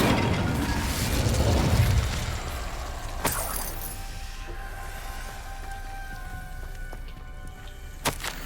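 An Incendio fire spell cast in Hogwarts Legacy opens with a dense whooshing, crackling burst that thins into a softer hiss with a few sharp cracks and chimes, close and fairly loud, with no talk.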